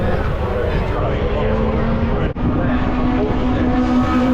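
Racing cars at the start of a circuit race, a dense, continuous engine roar with a rising tonal whine, loud and steady, briefly dipping midway before surging on.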